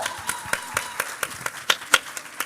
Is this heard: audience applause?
yes